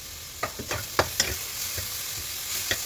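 Puffed rice and lentils being stirred together in a pan, with a run of soft, irregular scraping strokes and light rustling at close range, no voices.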